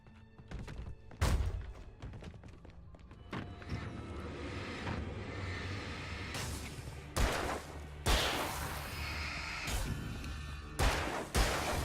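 Repeated flashbang blasts from the Alan Wake video game, several sharp thuds and bursts spaced irregularly over a dense, rumbling game soundscape, the loudest near the end.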